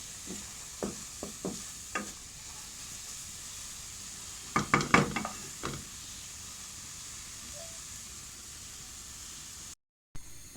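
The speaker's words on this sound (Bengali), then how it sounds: "নামিয়ে নিয়ে আমি বাগার দিয়ে নেব" A tempering (bagar) sizzles in a pan for village-style taro leaf bharta. A steady hiss runs under scattered clinks and a cluster of stirring clatters, then the sound cuts briefly near the end.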